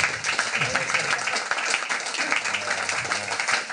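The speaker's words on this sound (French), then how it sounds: "je pense que ça mérite un bel applaudissement quand même." Applause during a podcast conversation, a dense, continuous patter of clapping held at a fairly loud level with voices mixed in underneath.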